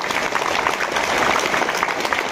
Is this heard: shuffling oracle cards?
no